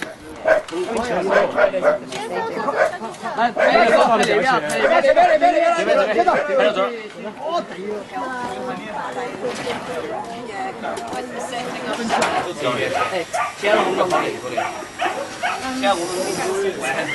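Dogs being taken out of cages at an animal rescue, their barks breaking through continuous chatter and talk from rescuers, with a hissy background throughout.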